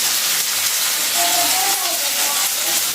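Garlic, cumin and ginger pastes hit hot oil in a pan for a Bengali village-style thin chicken curry, giving a steady, fairly loud sizzling hiss that runs unbroken for the whole stretch.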